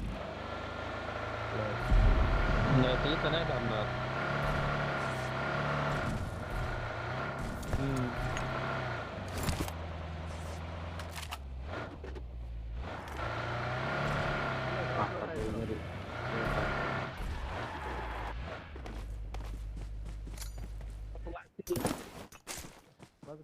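Car driving in PUBG Mobile on the Erangal map, a continuous engine drone that rises and falls over about twenty seconds, mostly under players' chatter, with sharp game sound effects cutting in near the end.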